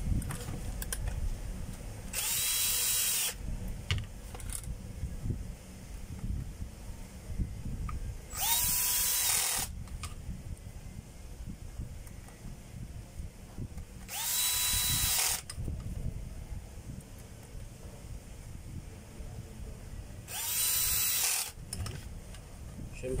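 Four brief whirring bursts of a power drill driving screws back in to refasten a baffle, each about a second long and spaced several seconds apart over a steady background hum.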